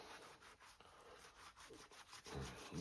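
An oiled foam air pre-filter from a Baja being rubbed and squeezed together by hand, giving soft, repeated scrubbing swishes in an uneven rhythm, faint and close, with no voices.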